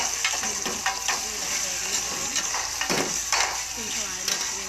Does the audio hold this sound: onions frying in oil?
yes